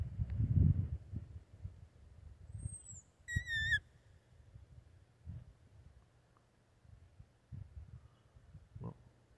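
A robin-like songbird that is not a robin gives a brief burst of high, clear whistled notes midway, then falls quiet, over faint low background noise and scattered soft thumps outdoors.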